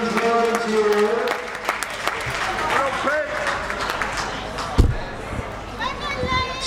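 At an indoor dog show in Darlington, a crowd cheers and claps for the veteran German Shepherd, a steady broadband roar of applause running beneath a commentator's continuous talk.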